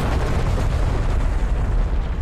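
JF-17 Thunder BRM-1 laser-guided rockets in the DCS World flight simulator: a dense, continuous low rumbling roar of blasts, loud and unbroken for a couple of seconds.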